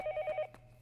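A telephone rings in the horror video game Yomawari, a quick run of four electronic trill pulses followed by a couple of softer clicks, clear and close.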